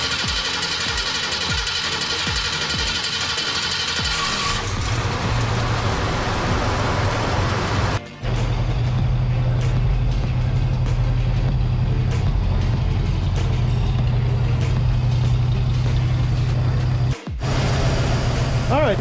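A 1965 Mustang engine runs steadily while warming up to temperature, with a low continuous idle rumble under clattering shop noise, a brief cut near the middle and another near the end.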